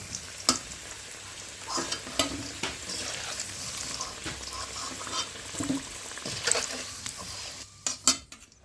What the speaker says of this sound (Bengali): আলুগুলি আমি লাল লাল করে ভেজে নিয়েছি, এবার তুলে নেব।